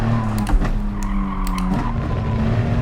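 A Gr.3 race car in Gran Turismo Sport at Autodrome Lago Maggiore squeals its tires as it oversteers in first gear, a loud, brief screech over the engine's low rumble.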